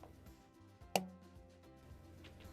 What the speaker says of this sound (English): when the rubber band hit the cup, it sure made a loud noise